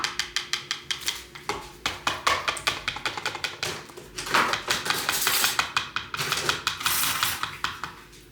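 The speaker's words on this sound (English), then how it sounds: "we should make like little holes in it so it can drop down in it" A knife pokes holes in a Biscoff cheesecake, giving a quick regular series of sharp metallic taps and clinks against a dish, close and clear, with no voices.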